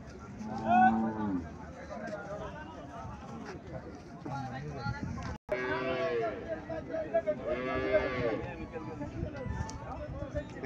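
Holstein Friesian cow at a cattle market lowing with a few drawn-out moos, mid-distance, mixed in with people talking nearby.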